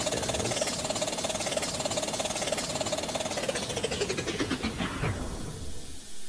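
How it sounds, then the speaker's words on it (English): A train engine in the Roblox game Somewhere Wales chugs with a rapid rhythmic pulse and a steady mechanical drone, its pitch sliding downward near the end as it fades, with no talk over it. "No, I think that was just the engine."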